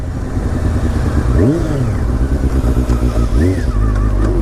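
Triumph Speed Four sport motorcycle engine revving hard and loud, with two distinct rising-and-falling rev sweeps over a steady rumbling idle close to the microphone.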